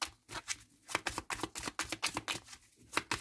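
Tarot cards being handled and shuffled, a rapid series of crisp papery riffles and slaps in irregular bursts, close and fairly quiet.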